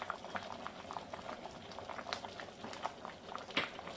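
Vegetable khichuri bubbles in a pot, a steady soft crackle of popping bubbles with small sharper blips, quiet and close throughout.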